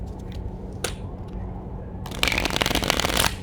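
Spanish Fournier playing cards from Victoria, Spain being shuffled close up, a brief riffle then a dense, rapid fluttering burst of card edges lasting about a second.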